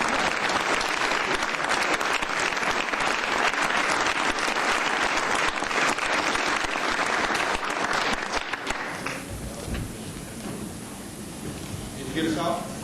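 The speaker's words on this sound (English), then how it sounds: "let's give them a round of applause." Loud, continuous applause fills a city council meeting chamber after a life-saving award presentation, then drops away abruptly to quieter room sound with faint voices.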